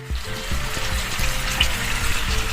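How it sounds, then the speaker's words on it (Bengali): Chicken pieces for chicken rezala fry in a pan with a steady crackling sizzle and scattered pops, close and moderately loud, with no voices. "এবার এটা একটু ভাজা ভাজা হবে।"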